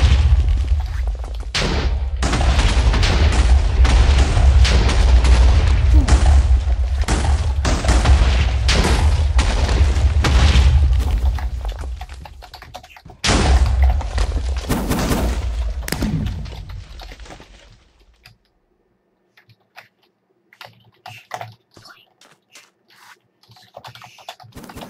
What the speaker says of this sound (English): Where did that grenade come from?